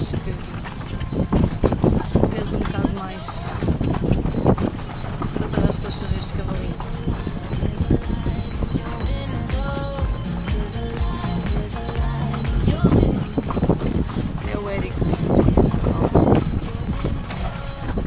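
Horse hooves clip-clopping on a street in Bali, where only bicycles and horse carts travel: steady rhythmic hoofbeats continue under ambient street noise and people talking.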